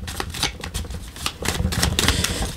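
Tarot cards being cut and drawn, a quick run of close crisp flicks and taps in irregular bursts, with no talk over them.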